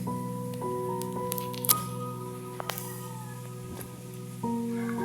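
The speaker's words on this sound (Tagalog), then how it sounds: "Maghugas tayo ng kangkong paglalagay natin sa sinabawan." Water spinach leaves are washed by hand in water, with soft squishing, dripping and splashing up close over a steady background hum.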